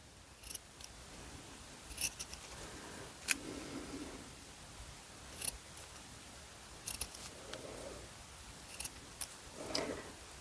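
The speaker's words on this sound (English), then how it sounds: "And then I'm going to come back and cut it the other way." Small scissors snip notches into material for a miniature Tudor hat, with quiet, sharp, irregular cuts spaced a second or two apart against a faint room background.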